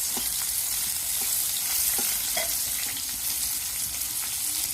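Koi fish (climbing perch) frying in hot oil in a village kitchen, a steady loud sizzle and crackle with scattered pops throughout, no voices.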